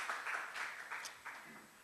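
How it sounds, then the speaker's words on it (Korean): A church congregation at a Wednesday service breaks into brief applause, a soft, fairly distant patter of many hands clapping for under two seconds. "박수 한번 쳐주세요."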